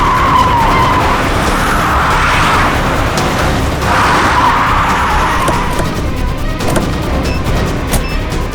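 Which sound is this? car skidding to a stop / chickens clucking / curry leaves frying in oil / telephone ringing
car skidding to a stop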